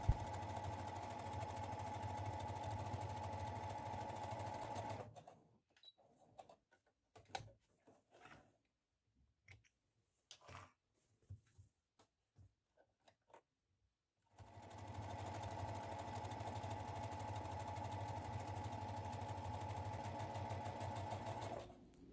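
A sewing machine stitches the side seam of a fabric drawstring pouch, running in a steady, close mechanical hum for about five seconds, falling quiet with faint handling sounds, then running again at length.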